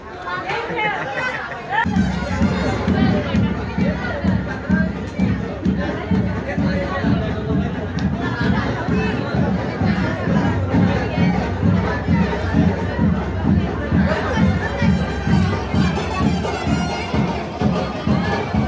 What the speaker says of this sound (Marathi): बघा मित्रांनो कसा जल्लोष आहे